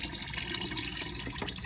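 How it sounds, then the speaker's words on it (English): Ceramic glaze pours back into a container as a steady liquid splashing and gurgling, close and continuous with small drips. "I'm going to pour this glaze right back in here"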